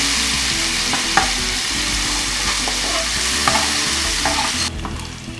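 Garlic and ginger paste frying in a pan with a mustard-leaf curry mixture for sarson ka saag, stirred as it cooks. A loud, steady sizzle runs throughout, with occasional scrapes and taps from the spoon.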